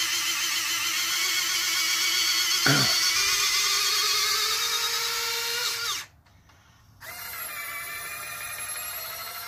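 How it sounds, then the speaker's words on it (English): Motorized folding-wing mechanism on a 1700 mm FMS F7F Tigercat RC plane, a steady whirring servo drone with a brief clack partway through, ending in a short pause before the whirring resumes, close and alone. "And then you hear the locking rods engage that goes into the wings about 4 inches."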